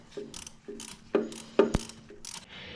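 A ratchet wrench tightening a bolt back down next to a turbo on an engine with an oil consumption problem, giving several short bursts of quick ratcheting clicks with sharp metallic knocks, close up and fairly quiet.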